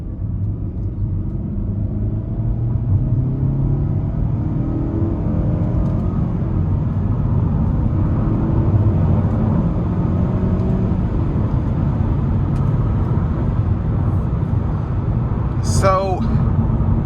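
Inside a 2019 Nissan Altima 2.5 SR with a CVT, a steady engine drone and road rumble hold for several seconds, ending with a brief sharp click.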